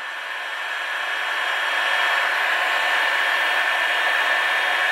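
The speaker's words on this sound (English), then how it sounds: "Obviously on the hottest part where the heat gun is." A heat gun blows steadily on a Lambretta scooter stud, a continuous close whooshing roar with a faint whine that swells slightly in the first second and then holds level.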